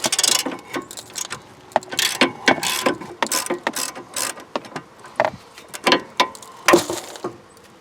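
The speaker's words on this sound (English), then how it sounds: "it's hard to fit a socket wrench in here, so you might have to use a short one" A socket wrench loosening brake caliper bolts on a Santa Fe Sport makes close, rapid ratcheting clicks in quick repeated bursts, loud and crisp with short pauses between strokes.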